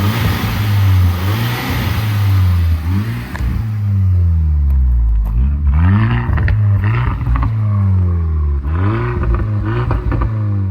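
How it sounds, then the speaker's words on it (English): A VW Scirocco R, a 2015 car with 76,000 miles, revs repeatedly in loud, close bursts, the engine note rising and falling in several blips over a steady idle. "Give it a few revs, nice warm."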